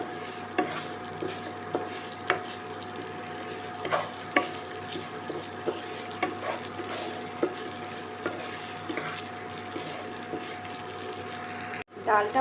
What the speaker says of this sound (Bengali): ডালটা একটু হালকা ফ্রাই করে নিতে হবে।